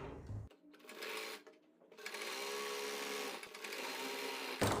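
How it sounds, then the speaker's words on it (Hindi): A sewing machine runs in a steady loud whir while stitching the inner seam of a circle palazzo, pausing briefly before starting up again. "अंदर की तरफ हम अपनी पूरी सिलाई कंप्लीट कर लेंगे इस तरीके से 1/2 इंच का मार्जिन लेते हुए"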